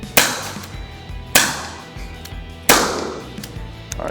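Ares APR Magnum gas airsoft revolver, a Smith & Wesson 686 replica, fires three sharp, loud cracks spaced about 1.3 seconds apart, each with a short ringing decay, with no talking.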